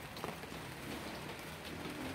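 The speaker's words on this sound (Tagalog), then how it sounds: "hindi pa malakas yung ulan" Light rain falls during Typhoon Rolly in Imus, a faint, even hiss of drops on surfaces with no other sounds standing out.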